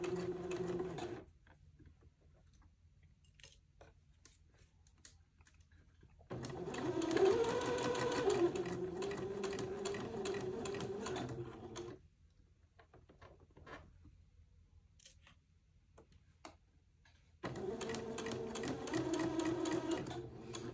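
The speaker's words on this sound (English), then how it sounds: "I have that sewn onto the neck edge going all the way around" A sewing machine stitches a collar onto the neck edge of a baby's heirloom bubble garment in three loud running bursts, with quiet pauses between them.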